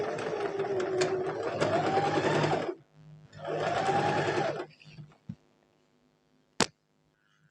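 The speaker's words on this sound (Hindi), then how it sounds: "अब मैंने इधर सिलाई लगा देनी है मैंने।" A Singer 8280 sewing machine stitches fabric backed with buckram in two loud, close bursts of rapid whirring needle action separated by a short pause. Quieter clicks and a sharp tap follow.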